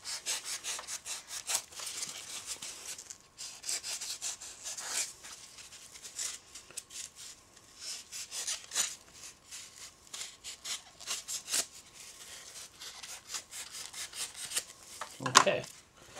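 Taxidermy rabbit form being trimmed to fit the neck and rib area, a steady series of scraping, rasping strokes, close and fairly quiet, with brief louder rubs near the end.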